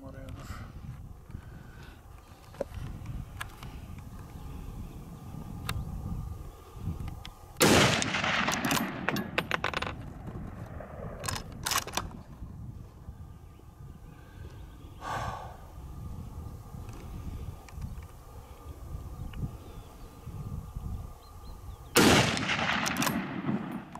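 A rifle is fired while a scope is tested, two loud sharp shots about fifteen seconds apart, each with a short ringing tail, and people talk quietly between them.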